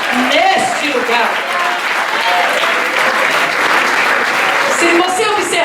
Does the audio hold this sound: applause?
yes